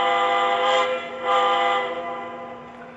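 A model train's whistle sounds alone, a sustained multi-tone chord in two close swells, loud and steady with a slight fade at the end.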